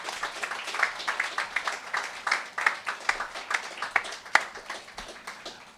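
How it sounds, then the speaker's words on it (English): Audience applause at an open mic night, a steady patter of many hands clapping at moderate volume, continuing evenly for several seconds with no talk over it. "Applause, please, for Katie Tahoe"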